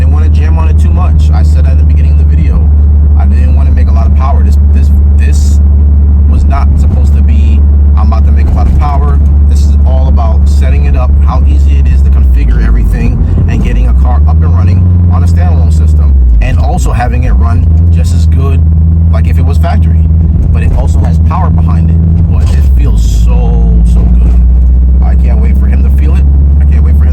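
A tuned Subaru turbo engine drones loud and close from inside the car, a steady low rumble that swells and dips as it pulls through the revs, with talk over it.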